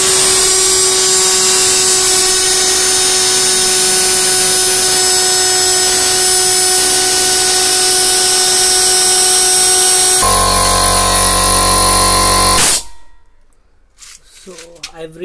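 An air compressor runs steadily and loudly to pressurize a homemade air dryer canister, a continuous droning hum with a tonal whine that shifts pitch near the end before stopping abruptly into quiet.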